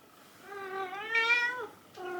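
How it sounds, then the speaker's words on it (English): A cat meows in a drawn-out, rising and falling call, then begins a second meow after a brief pause, close and fairly clear against a quiet indoor room. "I thought it was that cat meowing"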